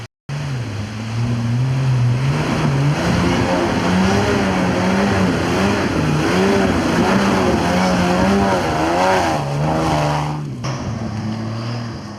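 A 4WD off-road competition vehicle labors up a steep, hard hill track, its engine revving hard and bouncing near the rev limiter in rising and falling waves, loud and close throughout.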